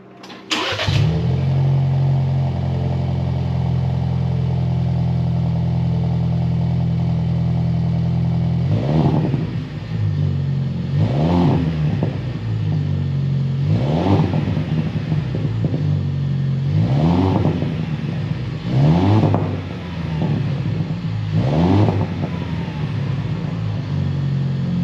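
Ford Bronco with a new aftermarket exhaust idles with a steady low rumble, then is revved five times in spaced bursts, each rising and falling with burbly crackle, close and loud, with no talk.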